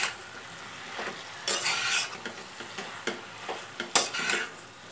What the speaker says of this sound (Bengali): একবার ভালো করে উপর নিচ করে মিশিয়ে নেব